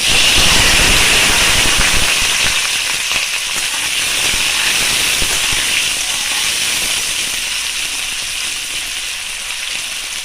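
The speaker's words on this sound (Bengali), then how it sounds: "এবার আমি আলু দেব, আলুগুলো একটু ভেজে নেব" Potatoes frying in hot oil for a chicken keema dish, a loud steady sizzle and hiss that carries through the whole stretch with no talking, tapering slightly toward the end.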